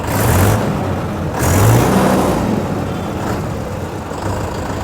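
A Mahindra Yuvo Tech+ tractor idling at low speed, a steady close diesel rumble with a low throbbing hum that swells slightly a couple of times as the silencer cover vibrates.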